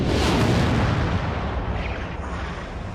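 A huge explosion effect standing for the Big Bang: a dense, roaring blast that starts at full force and rumbles on with broadband noise, fading slightly over three seconds, loud and alone.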